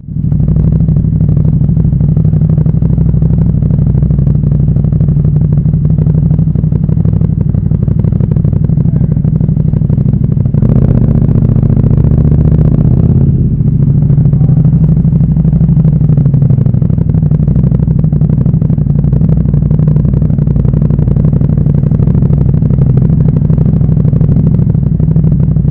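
A KTM 1290 Super Duke R motorcycle engine runs loud and close in a sustained, heavy drone that swells briefly midway through.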